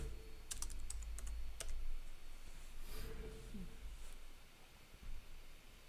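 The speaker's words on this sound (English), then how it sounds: "let's type in Cyprus" Computer keyboard keys tapped in short irregular bursts, sharp clicks clustered near the start and scattered later, fairly close and moderate in volume against a low steady background hum.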